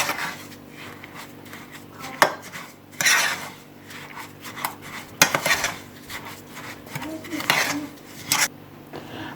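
Butter being stirred into a bowl of warm milk with yeast and sugar for a bun dough, a spoon clinking and scraping against the bowl in irregular close taps and rubs, with no talking.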